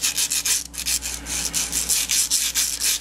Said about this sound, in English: clean up the little bits of burr. And you do that just with sandpaper.